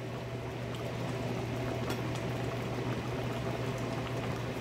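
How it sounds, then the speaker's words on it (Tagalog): Chicken curry boils hard in a covered pot, giving a faint, steady bubbling hiss that runs evenly throughout with no talk over it. "So, ayan, sobrang kulo na niya."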